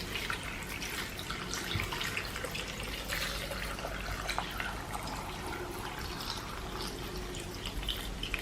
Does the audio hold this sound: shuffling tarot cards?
no